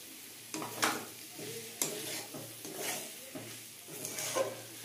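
Fried prawns go into a sizzling banana flower and potato curry in a pan, with a steady frying hiss broken by repeated scraping stirs and a few sharp metal clinks from the spoon against the pot.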